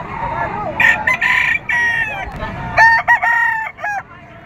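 A Kelso stag rooster crows at a livestock auction market in Padre Garcia, Batangas, several loud, close harmonic calls in quick succession over a steady murmur of market noise.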